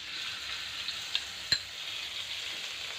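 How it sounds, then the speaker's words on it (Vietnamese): Minced dried shallots and garlic fry in oil left over from frying fish, giving a soft, steady sizzle with a couple of brief pops and clicks, fairly quiet and close with no talking. "Đây, mình cho cái hành tỏi khô bằm nhuyễn vào."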